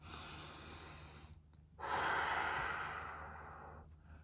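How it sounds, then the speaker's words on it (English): A single deep breath is drawn in and let out slowly, close and fairly loud, with no other sound around it. "Deep breath."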